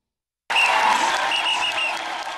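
After a brief silence, a festive crowd at a life celebration erupts into cheering and clapping, a bright, busy wash of voices and hands that stays loud throughout.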